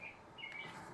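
A few bright bird chirps ring out over a steady ambient hiss, short and high-pitched, fairly faint within the outdoor soundscape of Hyrule Warriors: Age of Calamity.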